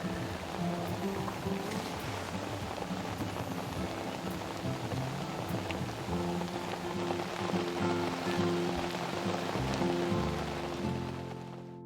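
Steady rain falls over an open field on an overcast morning, a continuous dense patter with no breaks, moderately quiet and even throughout.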